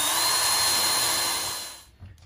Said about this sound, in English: So we're gonna pre-drill a hole right here.